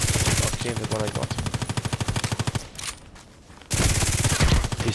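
Rapid automatic weapon fire in the online shooter Contract Wars, loud sustained bursts of gunshots that stop briefly for a quieter gap before another close burst resumes.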